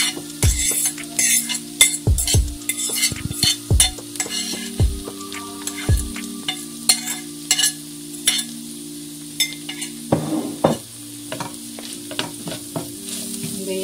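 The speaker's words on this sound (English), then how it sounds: "at this time I'm gonna merge my chickpeas, crushed chickpeas, to the vegetables in the pot" Crushed chickpeas stirred into sizzling vegetables in a pot: a spoon scrapes and knocks against the metal in repeated strokes over a steady frying hiss, with a lull partway through before the stirring picks up again.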